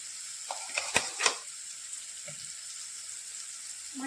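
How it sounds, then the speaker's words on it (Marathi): Coarsely ground green peas sautéing in a pan with chilli garlic paste for matar kachori: a soft, steady hiss with a few quick stirring scrapes near the start. "मटार 2 मिनिटांसाठी आपण परतवून घेतला."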